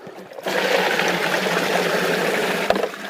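Water starts rushing through a homemade gold wash plant, a sudden onset of steady splashing flow that continues evenly with a small knock near the end.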